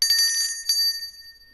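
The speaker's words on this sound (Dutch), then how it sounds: "Druk zeker ook even op die bel. Ik rinkel hem alvast." A bright notification bell sound effect rings twice in quick succession, each ding clear and close with a short shimmering decay, no other sounds around it.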